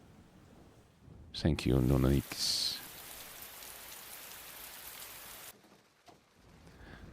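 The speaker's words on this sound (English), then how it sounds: "You can hear it raining outside." Steady rain falls outside in a scene from the video game Persona 4 Golden, a soft continuous wash under a brief spoken line, with a louder swell partway through before it drops away.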